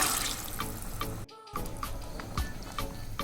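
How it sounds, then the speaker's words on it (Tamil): About one litre of water pours steadily into a pot of chicken biryani close by, a splashing rush with a brief break midway, then continuing. "இப்போ 1/2 கிலோ சிக்கன் பிரியாணிக்கு 1 லிட்டர் அளவுக்கு தண்ணி சேர்த்துக்கலாம்."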